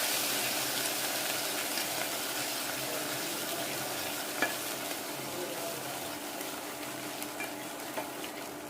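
Spinach sautéing and being stirred in a pan, a steady close sizzle with scraping stir strokes and a few light clinks, running continuously with no voices.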